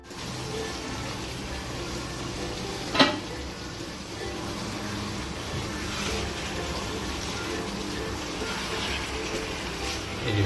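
Beef being braised over full heat in oil for a Bangladeshi bhuna, a steady broad sizzle and frying hiss running throughout with one sharp clatter near the start, close and even in level.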